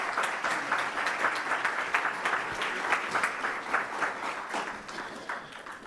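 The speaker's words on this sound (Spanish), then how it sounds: "para quien pido un fuerte aplauso" Audience applause for a Mexican Sign Language interpreter at a university panel on the city reconstruction program, a steady crowd clapping with dense overlapping claps sustained for several seconds at moderate level.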